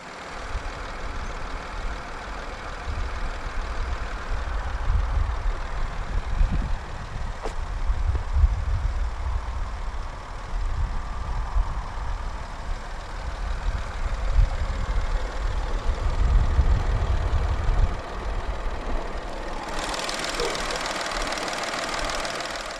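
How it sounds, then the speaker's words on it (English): A 2015 Škoda Fabia 1.0 MPI naturally aspirated inline-3 idles after start-up, a steady low rumble with a slight uneven knock running throughout, with a sharper hiss near the end and no talking. "Powering this Fabia is a 1-litre dual overhead cams, 12 valves, naturally aspirated inline-3 engine with multi-point fuel injection."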